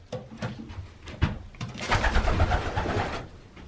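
A racing pigeon hen coos nearby in a few soft, throaty calls, followed by a rustling, shuffling burst of movement, with no talking.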